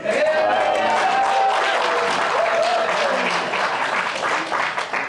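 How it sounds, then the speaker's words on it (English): An awards-ceremony crowd applauds steadily and loudly throughout, dense clapping with a few faint voices or cheers mixed in. "Conservatives normally don't get that kind of rousing applause"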